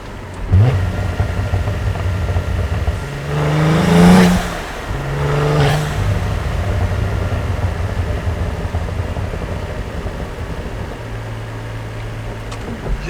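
Cadillac CT4-V Blackwing engine and exhaust during a break-in drive: a steady loud cabin drone with two rising revs and shifts mid-stretch, then settling back to a constant cruising hum, no voices.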